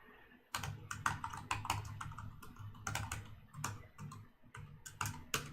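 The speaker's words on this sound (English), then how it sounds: "I was about to speak the password while I was typing it." Close, rapid clicking of computer keyboard keys as a master password is typed, in an irregular burst of keystrokes with short pauses and no talking.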